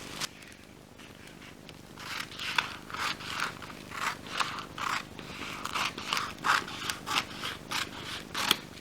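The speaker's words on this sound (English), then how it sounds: "we just cut some to fit the size of the paper" Scissors snip repeatedly through a sheet of fusible web cut from a roll, a quick run of close, crisp crunching cuts with short pauses between strokes, no talking.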